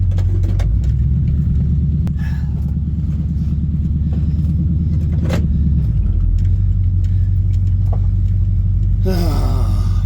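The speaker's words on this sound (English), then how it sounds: "Truck through the goddamn mud." A 1971 Chevrolet C20 pickup truck churns through mud, its engine a loud, steady low rumble with a rising-and-falling labouring note for several seconds, then a settled idle-like drone and a brief burst of noise at the end.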